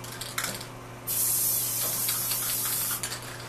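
A steady hiss of aerosol spray glue used in screen printing, one continuous burst of about two seconds, close by over low background hum.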